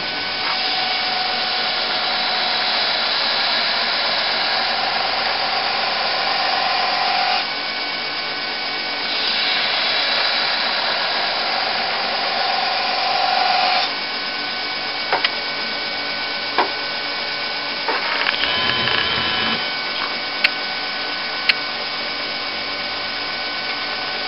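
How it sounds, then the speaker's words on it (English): A knife blade is ground on a grinding wheel to cut a hollow and set the plunge line on a drop-point blade, giving a steady loud abrasive whine that shifts in pitch as pressure changes, with brief ticks and pauses near the end. "I'm going to start to grind a spot in there where I'm going to have a hollow out"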